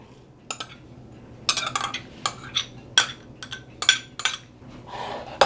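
Chopped pineapple, red onion and cilantro tossed together in a bowl with utensils: a series of close clinks and scrapes in irregular bursts, with quieter rustling between them.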